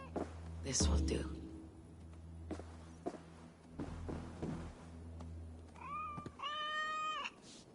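A cat meows in the video game Assassin's Creed Valhalla, two clear drawn-out meows near the end, following a stretch of soft rustling, thumps and quiet whispered game ambience.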